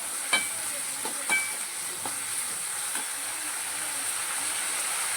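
Onions and tomatoes sauté in oil in a pan for a traditional mutton bone curry, a steady close sizzle and hiss broken by a few soft stirring knocks in the first seconds, with no voices.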